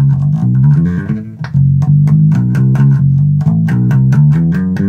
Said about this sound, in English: So my bass normally sounds like this.